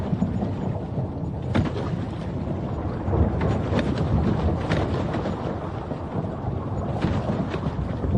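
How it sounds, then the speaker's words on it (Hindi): Night thunder over a river during a stormy boat crossing, a sustained rolling rumble with brief sharper cracks and surges, fairly loud and continuous with no voices present. "बादल रह रह कर गरज रहे हैं।"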